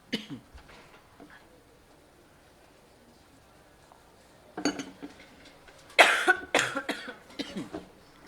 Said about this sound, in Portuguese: Desculpem pela tosse.